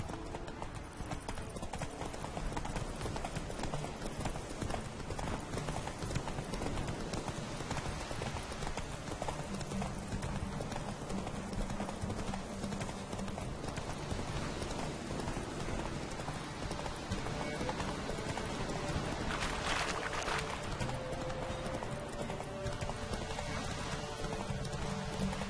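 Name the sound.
horse Roach galloping, clip-clop hooves, video game The Witcher 3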